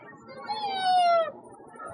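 A performer in a Tamil mimicry act voices a drawn-out, rising-then-falling cat meow as part of an imitated cat-and-dog fight, brief and close, with low murmuring around it.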